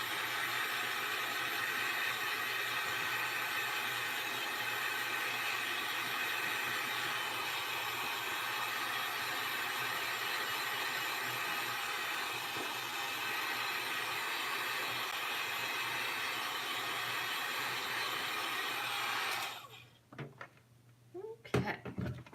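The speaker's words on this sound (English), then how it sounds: "So then I will have to turn on my heat drying tool" Heat gun running steadily close by while drying a wet Tim Holtz Sizzix Thinlits die-cut moose piece, a loud continuous whirring hiss with a low hum, cutting off near the end and followed by brief handling noises.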